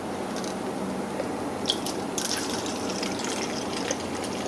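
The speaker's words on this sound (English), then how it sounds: "Okay, let's pour it into our bath now. Remember that the water will come out first" Water trickles and gushes steadily into a small toy baby bath, a continuous close splashing pour with faint higher droplet sounds and no talking.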